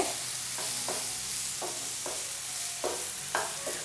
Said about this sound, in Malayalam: നമ്മുടെ മസാല എല്ലാം തക്കാളിയിലേക്ക് ഒന്ന് പിടിക്കുന്നത് പോലെ ഒന്ന് വഴറ്റി കൊടുക്കേണ്ടതായിട്ടുണ്ട്